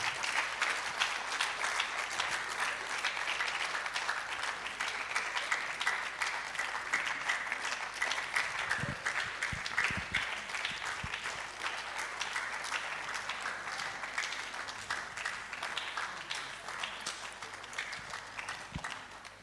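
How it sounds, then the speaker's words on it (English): Audience applause at a medical college's public lecture, sustained even clapping from a large crowd heard at moderate distance, steady throughout with a few sharper nearby claps. "I am not surprised the young are clapping so loud"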